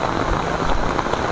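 Heavy rain falls steadily nearby, a dense, constant hiss and patter of drops with no pause and no voices.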